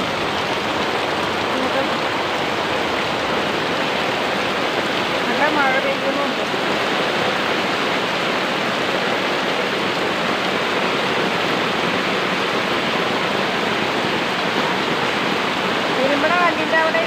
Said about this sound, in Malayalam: വെള്ളം വീഴുന്നത് വെള്ളം കെട്ടി നിൽക്കുന്നത്